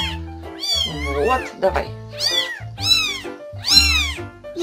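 Several meows from a small grey kitten, close and fairly loud, alternating with someone speaking softly in Russian over the calls.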